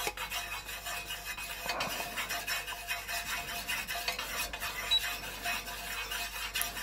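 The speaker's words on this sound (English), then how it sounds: "So I'm just using a chopstick to stir." A chopstick stirs melted Kerasoy Pillar 4120 wax with fragrance oil, giving a continuous soft scraping and rubbing with faint clinks against the container, close and fairly quiet throughout.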